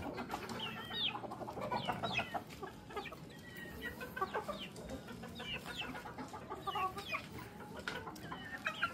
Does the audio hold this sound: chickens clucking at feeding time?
yes